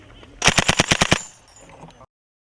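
A short, loud burst of about seven rapid gunshots from automatic fire, followed by a fading echo and faint background noise.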